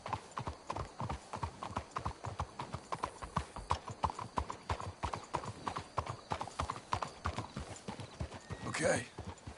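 Horse hooves clip-clop steadily in the Red Dead Redemption 2 video game, a close, even rhythm of several horses, with game dialogue over the top and a brief whinny near the end.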